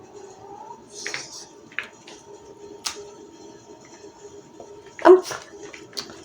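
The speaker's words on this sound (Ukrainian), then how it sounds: "Да, ти очень дорогая собака, правда?" A dog begs for treats indoors: soft whines and whimpers, with nails or tags ticking on the floor and a few sharper clicks, while a person murmurs quietly nearby.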